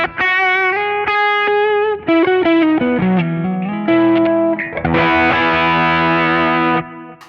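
Electric guitar chords played through a King of Tone overdrive pedal (yellow side), warm, loud and sustained, shifting through several changes before a final ringing strum.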